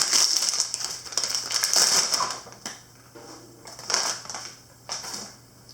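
Plastic outer wrapping of an IV saline bag crinkles and tears open by its top tabs in bursts of bright rustling and crackling, close and fairly loud, with no talking.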